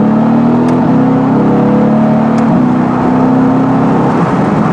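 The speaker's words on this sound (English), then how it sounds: "I'm in second gear at the moment. I'm going to put my foot down" A Mercedes AMG GT S engine pulls hard in second gear, a steady loud drone with rising harmonics running the whole time, close and continuous with no talking.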